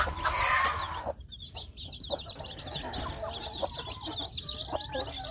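Village chicks peep in quick, high chirps near a mother hen, whose low clucks show up now and then, all close and fairly soft.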